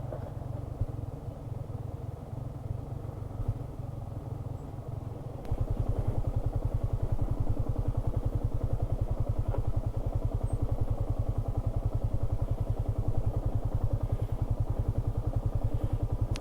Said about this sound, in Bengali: বাইক কিন্তু চালু থাইকাও নামতেছে